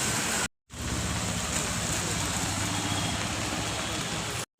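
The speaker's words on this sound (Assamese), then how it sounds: "গণেশগুৰিত যি কিন কিন বৰষুণ" Light drizzling rain falls in Ganeshguri as a steady, even hiss that runs almost unbroken, with a brief dropout near the start and another at the end, and no one speaking.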